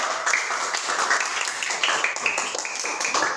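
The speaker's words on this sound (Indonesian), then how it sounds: "Oke, tepuk tangan dulu." A school class claps its hands together in a classroom, a lively, fairly close round of uneven clapping with a rhythmic pulse in it.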